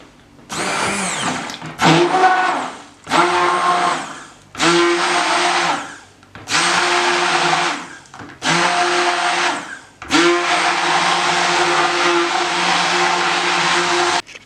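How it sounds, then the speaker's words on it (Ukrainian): A blender whirs loudly in repeated bursts, about seven pulses of several seconds each, its motor pitch rising and settling with short pauses between, blending a hazelnut-chocolate ice cream base. "Тепер я усе це пробиваю блендером."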